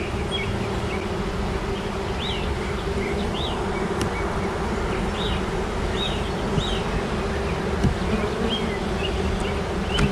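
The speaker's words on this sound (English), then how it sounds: "A lot of bees fanning on this frame" Dense, continuous buzzing of many honey bees fanning on a hive frame up close, a steady drone with a few individual bees zipping past.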